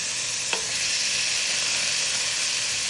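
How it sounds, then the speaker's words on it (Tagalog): Meat added to hot oil with onion in a pot, Filipino-style eggplant mince cooking, giving a loud steady sizzle and frying hiss throughout, with one faint clink near the start. "ngayon i-add ko na itong laham"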